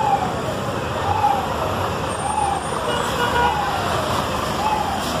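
A semi-trailer truck passes in heavy city traffic in Teresina, a loud continuous engine rumble and road roar close by, with other vehicles blending into the wash of noise.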